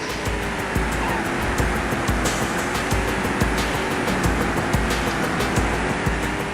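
A car races along in the PC racing game POD Gold, a steady loud engine drone with regular ticking clicks and a rushing, noisy roar throughout.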